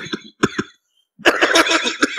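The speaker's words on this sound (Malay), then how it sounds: "Saya memang 3-4 hari dah batuk." A man who has been coughing for several days, speaking at a religious lecture, gives a few harsh, close coughs, then a longer, rougher burst of coughing after a short pause.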